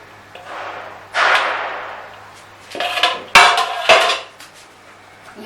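Cream fruit chaat being mixed in a mixing bowl, with several loud clattering scrapes and knocks of a spoon against the bowl, close up, with no talk.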